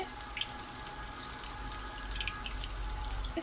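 Tuna fish cutlets frying in a pan, a steady, soft sizzle with scattered crackles and pops throughout.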